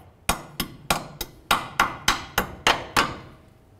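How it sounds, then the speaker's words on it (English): A hammer peens over the end of a lower ball joint mounting nut on a 2010-2013 Ford Transit Connect, ten sharp metallic strikes in an even rhythm, loud and close with a short ring after each. "peen it over so there's no way this nut can loosen up while you're driving down the road"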